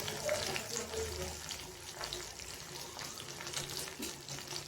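Chana dal frying in a pan while tamarind rice is being made crackles in a soft, continuous sizzle that stays fairly quiet and steady throughout.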